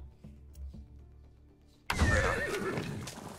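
In the video game Far Cry 6, after a quiet rumble, a horse's loud whinny bursts out close by, followed by snorting and movement.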